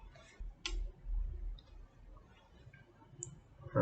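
Computer mouse clicks while working in Fusion 360, a few sharp, quiet, isolated clicks spread across a few seconds over low room noise, with no talking.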